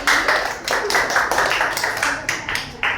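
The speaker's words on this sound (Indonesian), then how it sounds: "Boleh tepuk tangan untuk kita semua sekali lagi." Students in a junior Islamic school counseling class clap their hands together in a lively burst, with close, bright claps spaced in rough rhythmic pulses.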